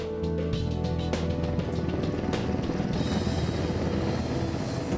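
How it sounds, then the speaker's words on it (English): Helicopter rotor noise from a military supercopter, a steady, dense mechanical drone with rhythmic blade chop, loud and continuous, with occasional swells and a brief shift partway through. "One of a helicopter's greatest handicaps during a rescue operation like Desert One is the noise made by its rotors."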